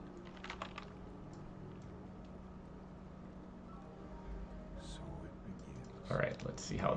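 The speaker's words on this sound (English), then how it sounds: "Fast typing noises is the best." Quick, light clicks of fast typing on a computer keyboard run quietly through a room with a steady low hum, growing busier and louder near the end.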